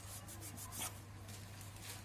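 Sandpaper works a sticking motorcycle collar pulley boss in a repair setting, a run of close, rhythmic scratchy rubbing strokes over a steady low hum, with no speech.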